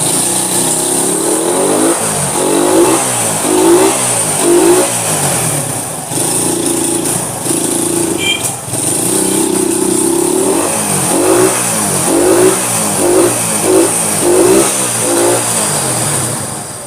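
An old Honda CB motorcycle engine revs repeatedly in rhythmic bursts, close and loud, with steady engine drone between throttle blips and no talking.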